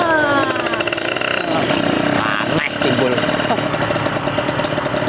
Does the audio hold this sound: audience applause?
no